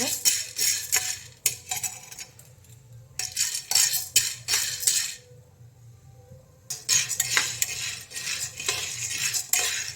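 Metal utensil scraping and clinking against an empty pressure cooker in bursts of stirring as something is dry-roasted, with a short quiet pause in the middle; low steady hum underneath.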